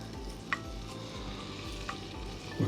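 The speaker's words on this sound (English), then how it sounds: "we're frying it in the fat that comes out of it" Steady sizzling and crackling of bacon frying in its own fat in a Ridgemonkey sandwich toaster outdoors, close and continuous, with a couple of faint clinks and no talking.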